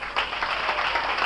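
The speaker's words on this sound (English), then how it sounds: "You really deserve a round of applause" Audience applause during a presentation on Windows 7 user experience design, a steady dense patter of many hands clapping at moderate volume throughout the short stretch.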